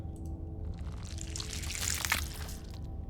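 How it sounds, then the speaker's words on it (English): A wet, loud splash of organs hitting the ground in the horror game Scarlet Hollow, a broad burst swelling in the middle over a steady low rumble, with no talk. "Then comes the loud splash of organs hitting the ground."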